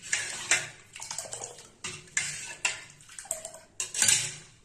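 Coconut milk rasam stirred in a pot, a run of close metallic scrapes and clinks of a spoon against the pot with a watery slosh, in uneven bursts and short gaps.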